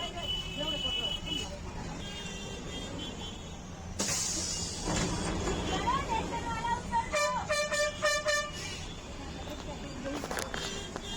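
Busy street traffic near Surat railway station rumbles steadily, with several car and vehicle horn toots, including a run of repeated honks, while someone talks over it.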